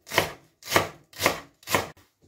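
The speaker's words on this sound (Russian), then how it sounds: "лук-порей я нарезаю вот такими грубыми полукольцами" Leek being chopped into coarse half-rings with a knife on a board, five crisp, evenly spaced cuts about half a second apart, close and clear with no talk.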